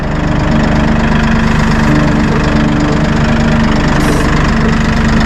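A Massey Ferguson 1E.40 compact tractor with a loader idles close by, its engine producing a loud, steady drone with an even low throb that holds unchanged throughout.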